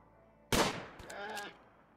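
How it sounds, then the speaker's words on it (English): A single sharp gunshot from a RimWorld Alpha 17 colony battle cracks out loudly, then trails into a ringing, warbling decay with brief metallic clatter before fading to quiet. "And of course it's Freddy shooting"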